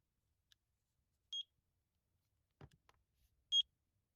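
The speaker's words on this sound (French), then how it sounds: "Appuyez sur le bouton Sync jusqu'à ce que vous entendiez le bip." Two short, clear electronic beeps from a Eufy E340 video doorbell during sync, spaced about two seconds apart in a quiet room, with a soft click or handling noise between them.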